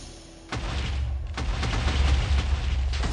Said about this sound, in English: I'm gonna have it where the TNT will explode here.